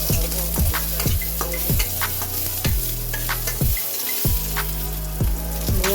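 Onion and garlic fry in a pan for veg Maggi, a loud sizzle broken by regular scraping strokes and knocks of the spoon against the pan, about two each second.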